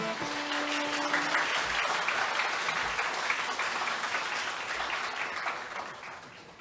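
An audience applauds at the Pusan National University anniversary ceremony, steady dense clapping over brief tones at the start, fading slightly toward the end.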